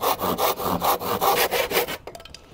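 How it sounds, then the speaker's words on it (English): A handsaw cuts through a piece of wood for a homemade wooden bike, about ten quick, rhythmic rasping strokes up close, each push and pull sharply audible, ending abruptly as the cut finishes. "I need to cut this down now."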